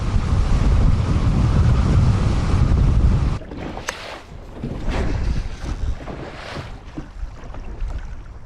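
Strong wind blasts across a small boat on open water, roaring into the microphone, then eases to gusty buffeting with lapping waves and intermittent rumbles.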